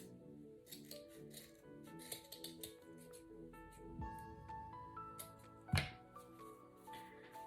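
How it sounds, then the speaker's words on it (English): Scissors snip through jute tassel strands in a quick run of close, crisp cuts, with faint light clinks between them. "I am just going to trim it"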